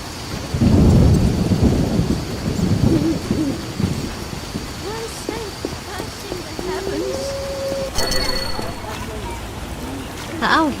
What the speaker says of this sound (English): A scourge of the lords, this rain.